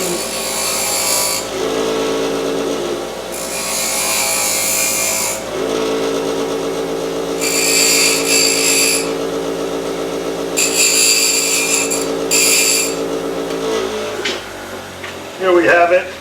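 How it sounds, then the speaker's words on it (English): A power tool grinds old meat grinder parts clean in several loud bursts of rasping, whining noise, with a steady machine hum between them and a clatter near the end. "I'm going to grind this off a little. Make them really clean."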